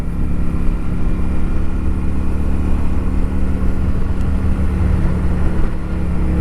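A 1992 Honda Steed motorcycle cruising on a scenic mountain road, its engine a steady, loud drone with wind rushing throughout and no change in pace.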